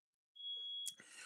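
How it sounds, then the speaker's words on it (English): A smoke alarm in a church or meeting hall gives a single shrill, steady electronic beep lasting about half a second, followed by a brief clatter and a soft noisy tail. "That's the smoke alarm going off."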